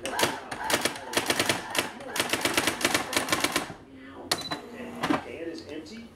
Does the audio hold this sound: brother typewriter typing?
yes